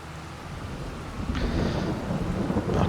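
Steady rain pours across an open ranch field while a low thunder rumble swells and persists in the background, the downpour growing slightly louder partway through.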